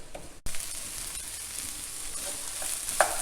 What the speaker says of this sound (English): we need to sweat this off with the peppers and onions until they are almost cooked